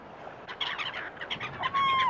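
Small birds call and chirp near a Siberian salmon lake, with several short tweets, one longer whistled note, and a soft background hiss.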